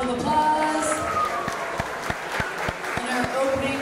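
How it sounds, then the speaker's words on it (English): Applause from a crowd at an amateur boxing event after the 110-pound bouts, clapping under a loudspeaker voice and hall noise, with several sharp individual claps standing out near the middle. "Let's give these boxers one more big round of applause"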